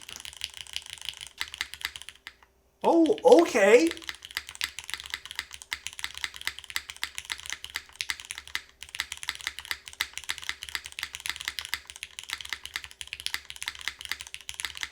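Steady, rapid clacking of an Albedo mechanical keyboard with MX Orange switches, aluminum plate, O-ring mount and hot-swap PCB, typed on continuously, close up, with a brief pause and a short spoken remark near the start.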